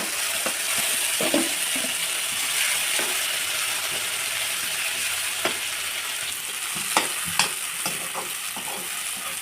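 A mix of dried red chili paste, curry leaves, turmeric and cumin fries in hot oil for mint chutney, with a continuous dense sizzle and occasional spoon scrapes and knocks against the pan, heard close up with no talking.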